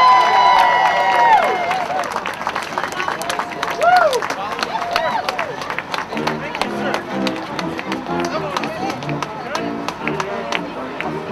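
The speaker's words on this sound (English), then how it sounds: "Once again, ladies and gentlemen, a big round of applause, welcoming home our veterans!" A crowd welcoming home Vietnam veterans at an Honor Flight event claps and cheers, with whistles and voices mixed in and steady applause continuing throughout.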